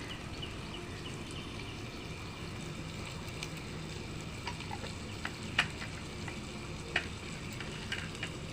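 A steady, close sizzle of food frying in a pan with salt and turmeric, a soft bed of crackling that runs unbroken with a few sharp clicks and spatters near the end.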